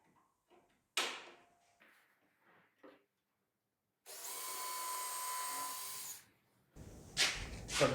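A power drill drives screws into a wooden sideboard cabinet: after a few scattered knocks and taps, one steady two-second whir sounds up close, then comes a rougher burst of drilling noise at the end.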